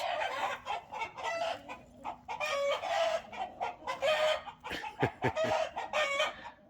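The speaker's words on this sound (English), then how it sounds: "That old teenage boy rooster, look at that." Chickens cluck in short repeated bursts close by, a rooster's voice among them, with a few sharp knocks partway through.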